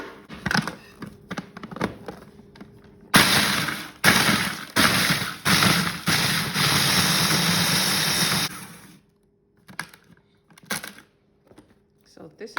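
Crackers with cinnamon are chopped for a tart crust, with a loud whirring motor run in pulsed bursts for several seconds, framed by scattered clicks and knocks before and after.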